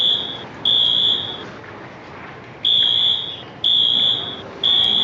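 A fire alarm sounds a loud, piercing high-pitched electronic tone in repeated on-off pulses, each lasting about a second, with gaps of low background noise between them.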